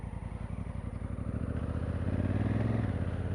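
A Honda Africa Twin DCT motorcycle being ridden, a steady, close engine drone with a rapid pulsing beat that rises slightly in pitch and loudness partway through, then settles again.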